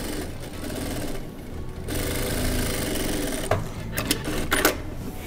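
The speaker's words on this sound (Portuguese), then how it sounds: "Então eu vou já fazer uma costura aqui em cima dessa." A sewing machine stitches a seam across the front pocket of a garment. A steady, fast mechanical whir and clatter plays close and loud, pausing briefly near the middle and ending in a few sharper clicks.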